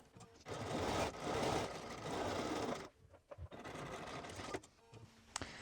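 A sewing machine sews a 3 mm straight-stitch seam on a hoodie in a steady, faint mechanical hum. It runs continuously, then slows into a few short uneven bursts and clicks near the end.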